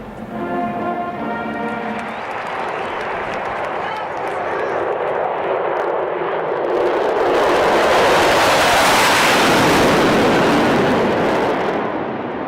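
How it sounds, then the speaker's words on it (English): Two F-18 fighter jets pass low over a football stadium in Atlanta, and their roar swells from a distant rumble into a loud, broad rush that peaks near the end over crowd noise. "These two F-18s flying too low over a football game in Atlanta"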